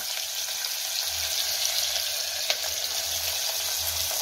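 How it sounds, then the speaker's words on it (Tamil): Cinnamon and bay leaf sizzle in hot oil in a pan, a steady frying hiss with a soft bubbling undertone and one small pop, no talking. "இப்போ பட்டை, பிரிஞ்சி இலையை போட்டுக்கோங்க"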